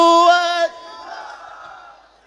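A crowd at a Khatam-e-Nabuwat religious gathering shouts a slogan together in one loud, sustained, harmonic burst lasting under a second, then trails off into a softer murmur of voices.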